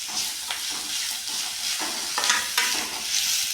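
Vegetables and grated potato fry in a hot pan, giving a continuous close sizzle with bursts of stirring scrapes throughout, no talk.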